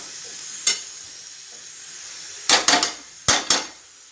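Mung dal is stirred and fried with spices in a pan: a low background sizzle, then a few separate scraping, clattering stirs, one near the start and a cluster of bursts toward the end. No one speaks.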